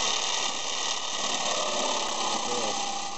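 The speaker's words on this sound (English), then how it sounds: "I'm just gonna use my jigsaw here." A jigsaw cuts a shelving panel with a steady, buzzing motor drone and rapid blade vibration that runs continuously at close range, with no talk.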